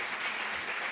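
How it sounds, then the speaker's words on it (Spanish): Applause for a faculty dean at a university commemoration of 40 years of democracy, a dense continuous wash of many hands clapping for a brief moment. "pedir un aplauso de reconocimiento al decano de esta facultad"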